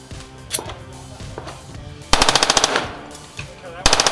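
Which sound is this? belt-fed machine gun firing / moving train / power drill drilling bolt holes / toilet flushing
belt-fed machine gun firing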